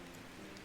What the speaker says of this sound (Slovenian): Kot bi bili jezni, na tla so ogromno dežja spustili.